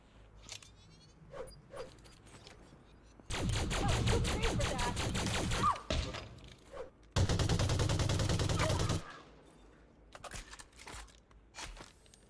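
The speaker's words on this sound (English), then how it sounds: "Let's try that grenade thing again." Grenade explosions in Elite Dangerous Odyssey: two long, loud bursts of blast noise about two seconds apart, separated by quieter stretches with scattered short clicks and thuds.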